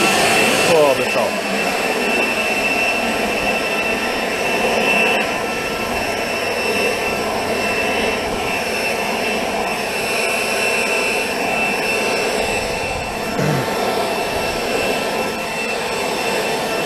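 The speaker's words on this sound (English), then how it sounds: "Gotta get the Milwaukee blower." A Milwaukee leaf blower runs continuously and loudly up close during outdoor lawn care, a steady roaring whoosh with no breaks.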